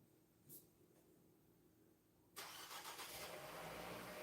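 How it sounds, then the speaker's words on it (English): Car engine in a game starting up and pulling away: a quiet background with a faint click, then a sudden steady engine roar that holds at a moderate level as the car drives off, with no talking. "Oh, there goes my car."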